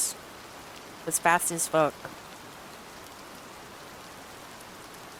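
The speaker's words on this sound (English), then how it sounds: "That rain is the worst volume I've ever heard in my life." Steady rain ambience playing as background on a live art stream, a soft continuous hiss running throughout, with a brief burst of talk near the start.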